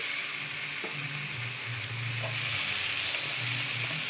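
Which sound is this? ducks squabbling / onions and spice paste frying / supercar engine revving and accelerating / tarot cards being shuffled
onions and spice paste frying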